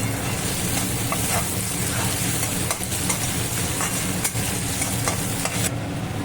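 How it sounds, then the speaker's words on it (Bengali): Onions fry in a pan for chicken biryani with a dense, loud sizzle like heavy rain, broken by occasional sharp clicks of stirring against the pan, with no voices. "এবার চিকেনে যে পেঁয়াজটা দেবো সেটা এখন ফ্রাই করব"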